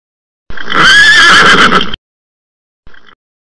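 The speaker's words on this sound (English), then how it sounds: "Horse." A horse lets out one loud, close whinny lasting over a second, followed after a pause by a brief faint snort, heard alone.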